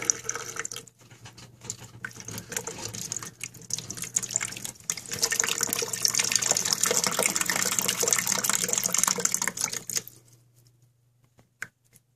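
Water drains out of a running toilet's tank during a home repair, a steady close rushing and splashing flow lasting about ten seconds before it cuts off into near silence, with a faint knock at the end.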